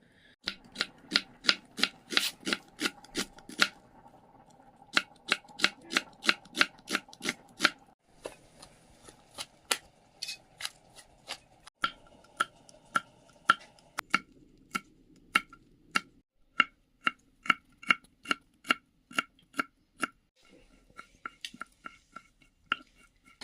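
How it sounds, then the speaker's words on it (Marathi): Onions, garlic and chillies being chopped on a board for a dried fish curry over a wood-fired stove, rapid close knife taps in quick bursts with brief pauses between runs. "कांदा लसूण आणि मिरच्या वगैरे कापून घेऊया"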